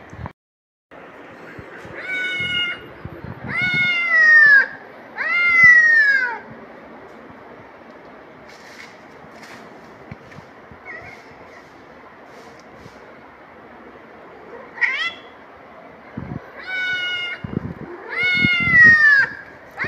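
Recorded cat meows played back to a cat, loud repeated drawn-out meows in clusters separated by quieter gaps with faint background noise.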